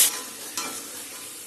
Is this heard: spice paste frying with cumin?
yes